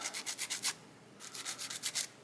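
Two quick runs of light, rhythmic scrubbing strokes, about six each, close and soft, a fine-grit sanding sponge rubbed back and forth on a 1/200 scale model ship part.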